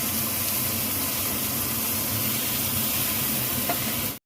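Onion paste fries in a pan, giving a steady, moderate sizzle with no break until it cuts off abruptly near the end, and no voices.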